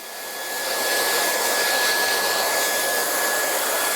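Handheld hair dryer blowing steadily at close range as hair roots are dried during a simple blow-dry, a continuous loud whoosh with a faint high whine, rising in the first half second and then holding constant, with no talking.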